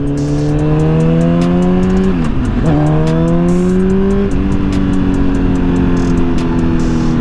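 A BMW S1000RR sport bike engine revving hard under quick throttle, loud and close, with rising and falling pitch sweeps that dip and climb again over a continuous roar.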